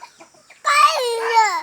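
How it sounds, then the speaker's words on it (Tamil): A chicken clucks and babbles close by in a home setting, a short rising call after quieter scattered sounds, with a voice nearby. "கோழி வீட்டுக்கு போதா?"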